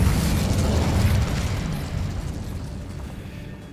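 Fiery spell bursts from the Incendio fire charm in the Hogwarts Legacy video game, a loud rumbling blast of flame that roars continuously with dense low booms and slowly tapers over a few seconds.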